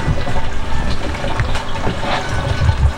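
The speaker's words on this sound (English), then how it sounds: "And then put some more water in it." Water poured into a container during rum making at a rum school in Dartington, Devon; a steady close liquid splash and gurgle runs through, with low thumps near the end.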